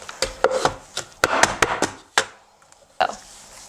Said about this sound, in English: we're gonna just knead this into a dough ball